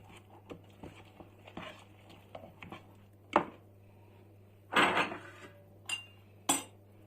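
A utensil scrapes and clinks against a bowl while mixing eggs for an omelette, in uneven strokes, with a few louder clatters, close by and without talking.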